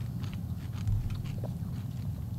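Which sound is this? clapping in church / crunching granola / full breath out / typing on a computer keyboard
crunching granola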